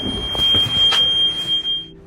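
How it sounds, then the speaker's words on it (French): A boat's radar alarm sounds aboard a sailing yacht as a steady, piercing high electronic tone that cuts off near the end, with faint sea and wind noise underneath. "Ce bruit-là, c'est l'alarme du radar qui dit qu'il y a quelque chose."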